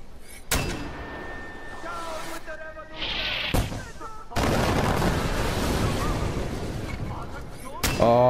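Mortar fire during an outpost assault in the video game Far Cry 4: several sharp blasts at irregular intervals, with booming rumble filling the later stretch, loud and close.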